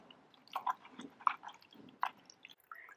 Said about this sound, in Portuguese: Com a própria esponja eu vou limpando todo o liquidificador.